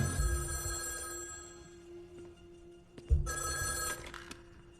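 A telephone bell rings at a hotel, with a steady electric trill in two loud bursts and a quieter stretch between them. No one speaks.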